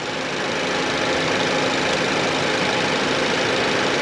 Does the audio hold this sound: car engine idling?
yes